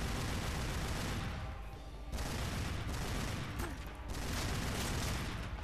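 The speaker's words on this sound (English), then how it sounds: "Okay, someone's shooting me." Steady gunfire crackles throughout a Tomb Raider Legend firefight, a dense loud fusillade with brief lulls near the two- and four-second marks.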